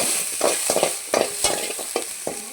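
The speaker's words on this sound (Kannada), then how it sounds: "ಈಗ ಬೆಂಡೆಕಾಯಿ ಫ್ರೈ ಮಾಡ್ಕೊಂಡು ಬರುವ." Okra frying in oil in a pan, stirred in short repeated scrapes that rise over a steady sizzle, with about eight distinct stirring strokes, close and clear.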